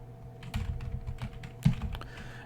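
Keystrokes on a computer keyboard while entering Vim commands, a steady run of light, close clicks and taps with one sharper press near the end, alone with no talk.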